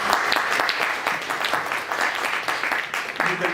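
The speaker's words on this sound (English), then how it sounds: "A round of applause for our panelists." Applause from a conference audience for departing panelists, a sustained wash of clapping at steady intensity, fairly loud and close, with no voices over it.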